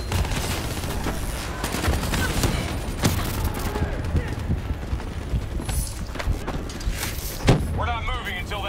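Rapid turret gunfire rattles through a Call of Duty Black Ops 3 battle, dense repeated shots with sharp louder cracks amid chaotic combat noise and voices.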